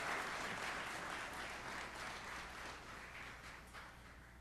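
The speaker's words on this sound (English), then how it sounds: "Let's give them a round of applause" Steady applause from a large seated audience at a community college student recognition and awards ceremony, honoring award recipients; dense, even clapping that holds at a moderate level and eases off slightly toward the end.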